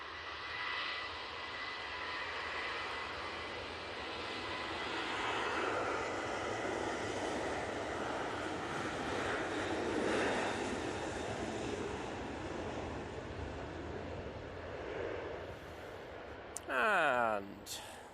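Ryanair airliner passing by at Manchester Airport, a broad, sustained jet roar that rises gently toward the middle and fades, with a brief voice near the end.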